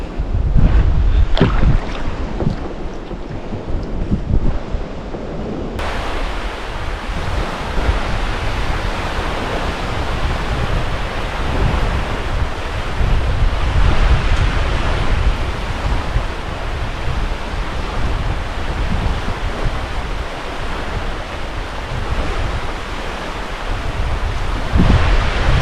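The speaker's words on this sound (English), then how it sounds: "Too windy to be out on the water there." Wind gusting over Comox Lake with waves lapping near a lakeside camp, a steady broadband roar with heavy low buffeting on the microphone throughout, no voices.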